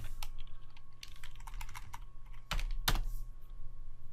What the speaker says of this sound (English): I'll just type in Firefox,